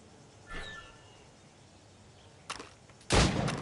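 Shots fired at targets in Assassin's Creed: two sharp bangs near the end, the last loud and close with a short ringing tail, after a fainter earlier report against quiet background.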